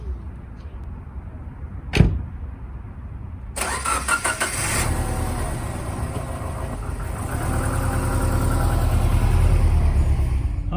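A car engine cranks and catches after a sharp click, then settles into a steady mid-pitched idle that builds slightly, close and loud with no talking, the car being one of a fleet of cheap, worn used cars.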